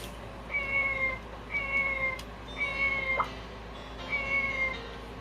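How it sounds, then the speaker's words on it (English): A cat in the video game Harvest Moon 64 meows four times in an even rhythm, each call a clear, repeated synthetic meow of the same length, with no talking. "Cats."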